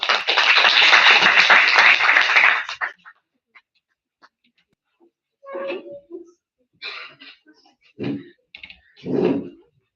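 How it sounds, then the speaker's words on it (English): An audience bursts into a short round of clapping that stops abruptly after about three seconds, leaving near silence broken by scattered faint sounds and brief snatches of voice. "Please give a big round of applause"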